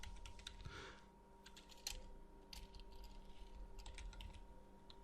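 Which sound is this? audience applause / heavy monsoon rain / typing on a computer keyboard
typing on a computer keyboard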